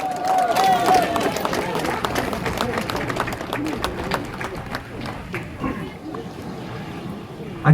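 Campaign rally crowd in Jeongeup, Korea, applauding as a Democratic Party figure, Kim Dae-jung's third son, takes the stage; scattered, moderately distant clapping with voices mixed in, gradually thinning out.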